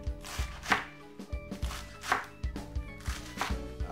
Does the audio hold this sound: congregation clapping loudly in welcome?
no